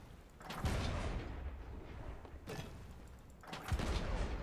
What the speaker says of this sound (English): I want to shoot at them anyway.